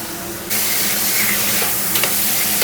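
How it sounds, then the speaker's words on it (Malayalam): Tomatoes drop into a hot pan of oil for a Kerala-style salmon moolee, setting off a loud, steady sizzle and fry hiss that swells after a brief quieter start and carries on with faint stirring, no voices. "തക്കാളി ഇട്ട് കൊടുക്കുക."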